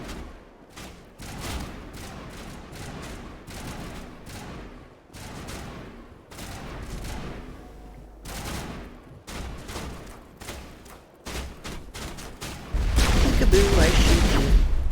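Gunfire in the Mass Effect video game, set on Vermire, with repeated sharp shots and bursts sounding through the whole stretch, some louder and closer, building to a dense, heavy barrage at the end with voices mixed in.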